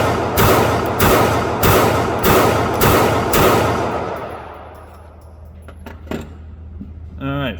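Rapid pistol fire from a PSA Dagger SW2 with a Swampfox Kingslayer optic at an outdoor range, six loud, evenly spaced shots with echoing tails, then quieter handling clatter.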